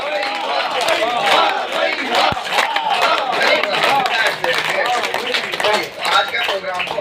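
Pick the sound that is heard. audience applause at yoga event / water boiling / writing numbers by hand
audience applause at yoga event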